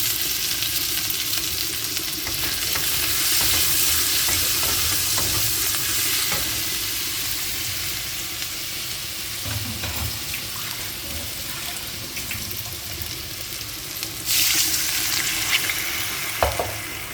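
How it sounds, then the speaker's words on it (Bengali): Garlic frying in a pan for a beef curry with cashews, a steady loud sizzle with stirring scrapes and occasional clinks, no talking. "রসুনটা একটু ভেজে গন্ধটা দিলে তারপরে দিয়ে দিব কাঁচামরিচ।"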